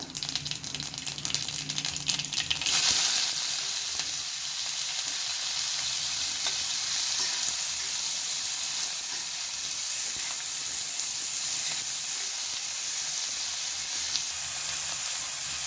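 Chopped onion with cumin and mustard seeds frying in hot oil, a loud continuous sizzle that flares up after an initial rattle and holds steady throughout, close up.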